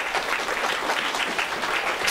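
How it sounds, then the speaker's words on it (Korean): An audience at a scholarship award ceremony claps steadily and fairly loudly, a dense, continuous applause with no voices over it. "여러분 큰 박수 부탁드리겠습니다"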